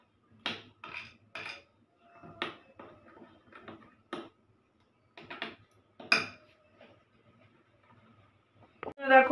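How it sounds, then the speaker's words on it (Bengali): Cornflour is stirred into a dal and potato snack batter, with a utensil clinking and scraping against a bowl in irregular bursts separated by short pauses, ending in a louder clatter. "এবার আমি এই কর্নফ্লাওয়ারটাকেও এর সাথে ভালো করে মিক্সড করে নেব।"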